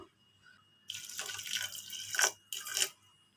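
Half a cup of water splashes onto jaggery in a pan in two short pours, a steady hissing stream broken by a brief pause, close to the microphone.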